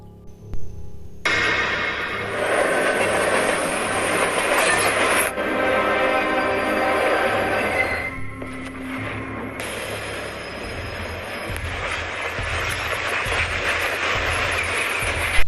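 A loud, continuous rumbling subway train roar in the video game Resident Evil: Welcome to Raccoon City, with clattering mechanical noise, shifting in intensity over several seconds, close and dominating.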